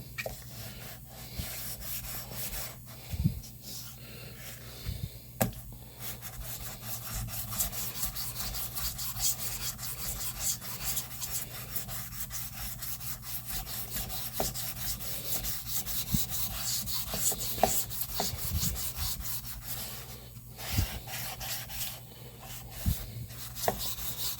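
Naniwa Snow White 8K whetstone being rubbed back and forth across 320-grit sandpaper, a steady gritty scraping that runs continuously with small bumps and knocks, close and fairly quiet.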